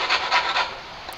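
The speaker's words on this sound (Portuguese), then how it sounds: "Olha lá, lixando o braço, igual eu falei pra vocês." A Washburn Dime 332 EC guitar's wooden neck is sanded by hand, making three quick, close, rasping strokes in a rhythmic back-and-forth that fade into a softer scrape.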